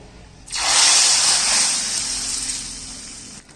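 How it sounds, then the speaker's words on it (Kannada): A hot tempering poured into vegetable sambar sets off a sudden loud, rushing hiss that starts abruptly, holds for about three seconds, then slowly fades and cuts off. "ನೋಡಿ ಸಾರಿಗೆ ಒಗ್ಗರಣೆ ಹಾಕೊಳ್ತಾ ಇದ್ದೀನಿ."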